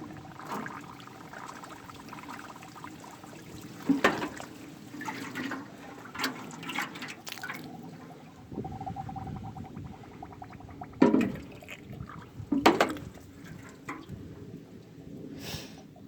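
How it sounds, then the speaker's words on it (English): Water draining from a car's drain hole and out through a hose, a soft continuous trickling and gurgle with a few louder splashing surges, close by. "I think more's coming out the drain hole, out this hose."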